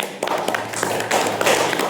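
Several people clap their hands briefly in a quick burst of sharp claps heard close in a room, short and irregular.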